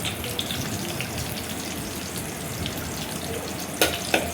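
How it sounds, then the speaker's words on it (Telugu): Onions and green chillies fry lightly in a pan for Telugu tomato chaaru, giving a steady, dense sizzle throughout with two brief louder crackles near the end, close by and without talk. "అవి బాగా వేగనవసరం లేదు, కొంచెం లైట్గా ఫ్రై అయితే సరిపోతుంది."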